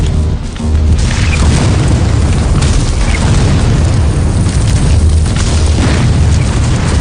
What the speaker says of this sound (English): Bullets and shells fly in all directions.